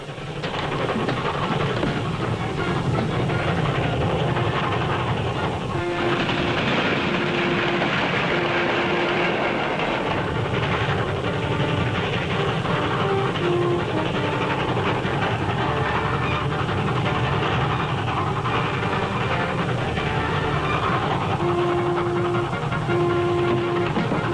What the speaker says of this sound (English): Stop the train until you're sure the powder car's in the tunnel.